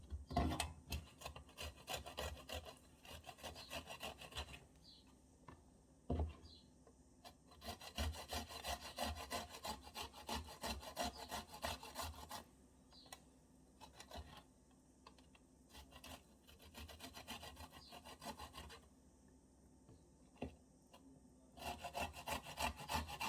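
Onion grated by hand for sticky Coca-Cola chicken wings, a steady rasping scrape repeated in long back-and-forth runs with a few short pauses, close and fairly quiet, no voices.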